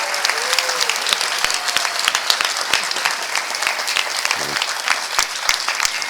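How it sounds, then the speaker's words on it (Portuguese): A crowd claps for the film crew at the opening ceremony of a documentary film festival in Rio de Janeiro, the applause close, lively and continuous with sharp individual claps standing out. "Recebeu uma salva de palmas para a equipe."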